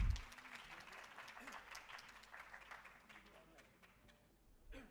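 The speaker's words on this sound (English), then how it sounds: "A round of applause for him" A conference audience gives a speaker a faint, distant round of applause, a thin wash of clapping that fades out, with voices murmuring and a bump at the end.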